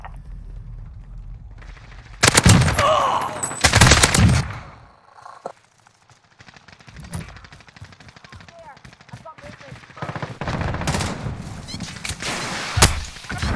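Rapid automatic gunfire in Call of Duty Modern Warfare multiplayer: loud bursts of machine-gun fire, a quieter lull with scattered distant shots, then more heavy bursts, with brief voice callouts between the volleys.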